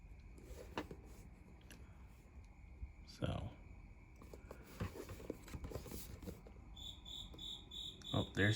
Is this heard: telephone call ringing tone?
no